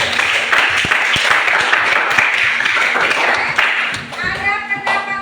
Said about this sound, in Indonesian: Beri aplaus dulu untuk temannya